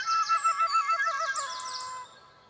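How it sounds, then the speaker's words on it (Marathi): A cartoon sparrow in an old mango tree chirps in a quick run of bright, high tweets that trail off into a fading note, clear and alone. "जुन्या आंब्याच्या झाडावर बसलेली चिमणी"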